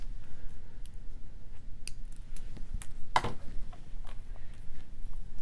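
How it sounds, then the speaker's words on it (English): A single sharp snip of cutters trimming jewelry wire for a Czech glass bead bracelet, close and brief, over a steady low room hiss with a few faint clicks. "I'm gonna trim my wire first."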